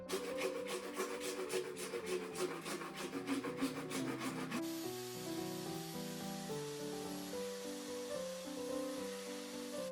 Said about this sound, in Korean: 양변기 설치의 첫 순서는 PVC 배관부터 잘라주도록 하겠습니다